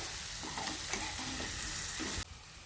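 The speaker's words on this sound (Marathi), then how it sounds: "आपण बारीक केलेला बटाटा ॲड केला, छान परतून घेऊ." Diced potato with chilli powder, garam masala and turmeric sautéing in a pan for masale bhaat: a steady close sizzle with soft stirring scrapes, dropping abruptly to a quieter hiss near the end.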